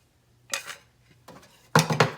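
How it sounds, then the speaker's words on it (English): Pecans tumble into a pan that has been taken off the heat for keto candied pecans, giving three short rattling bursts with quiet gaps between them, close and fairly loud, with no voices. "Now I am going to add in the pecans."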